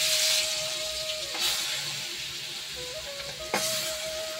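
Fish coated in spice paste sizzles in oil in a wok, a steady close hiss broken by a couple of sharp scraping bursts, with no voices.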